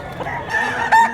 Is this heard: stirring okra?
no